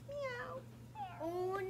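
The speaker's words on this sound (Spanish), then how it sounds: "¡Una gatita!" A kitten's meows, two drawn-out, rising and falling cries close by, with a steady low hum underneath and no talking.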